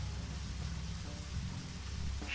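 Rain in the video game Deadly Premonition, a steady, dense downpour hiss with a low rumbling undertone, continuous and fairly loud with no voices.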